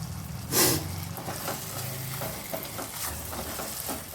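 Masala with cashew paste and crushed kasuri methi sizzles and fries in a pan for a mushroom masala, with a steady hiss broken by stirring scrapes and one louder burst of crackle early on.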